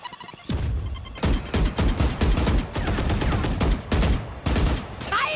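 Rapid gunfire in the Valorant video game, loud bursts of shots fired in quick runs with brief gaps between them, heard almost without talk.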